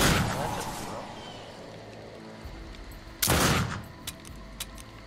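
Gunfire in a video game as shots take out the lights: a loud burst of firing at first, a heavy blast midway and a few scattered sharp cracks after, with voices over it.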